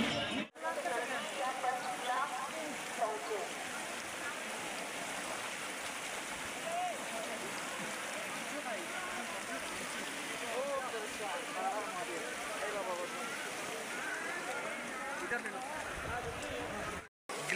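Icy glacier meltwater river on the Amarnath pilgrimage route in Jammu and Kashmir, a continuous broad rushing roar of flowing water close by, with people talking over it throughout.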